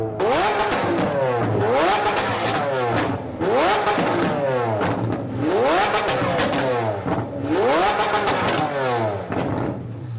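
A Lamborghini Aventador engine revs hard in repeated rising bursts, roughly four loud blips with crackling backfire pops and flames between them, close and continuous.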